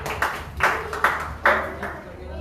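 Hand claps from a church congregation at a New Year's Eve service come in a handful of distinct, fairly evenly spaced strikes, moderately loud over a murmur of voices and room noise.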